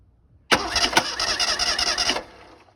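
A 1983 Ford EXP engine, off the road for almost 30 years with its valve cover removed, cranks over for nearly two seconds without catching: a loud, steady, rapid whirring churn that starts abruptly and stops just as suddenly.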